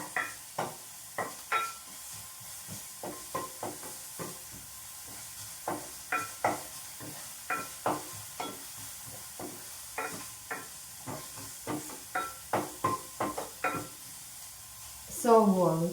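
Onions frying in a pan over a medium flame, cooked until light brown, with repeated scraping stir strokes over a steady sizzle, fairly close, ending in a louder burst of clatter.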